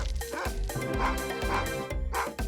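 A cartoonish dog barks and yips in a repeated pattern of short, loud calls over a musical backdrop in an Italian-meme detective story.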